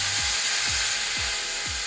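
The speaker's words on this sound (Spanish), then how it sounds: "y procedemos a activar el taladro" A power drill twists a metal wire clamped at both ends during a Young's modulus test, a steady broadband whir with four falling sweeps repeating about every half second, close and fairly loud.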